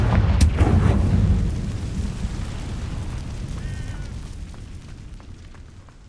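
A Confringo blasting spell in Hogwarts Legacy sets off one loud, deep explosion with a sharp onset. A rumbling boom follows and slowly fades over several seconds, with faint chimes in the tail.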